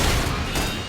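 Heavy video-game gunfire laying down suppression, a dense, continuous roar of overlapping shots that stays loud and sustained throughout, with no pauses between bursts.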